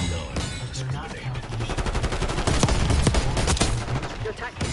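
Rapid SMG bursts in a Call of Duty online multiplayer match pour out loud and continuous, dense overlapping gunfire with many close rattling shots throughout.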